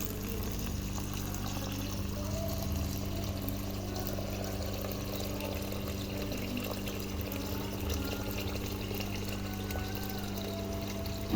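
Water pouring steadily into a cooking pot while making purple biko, a continuous close rushing stream with a low steady hum underneath, no talking.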